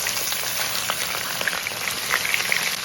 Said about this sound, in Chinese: 用小火慢煎，把底部先煎至金黄